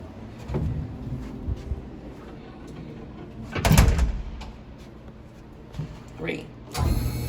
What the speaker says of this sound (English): if I push the 1 button on here, the door opens.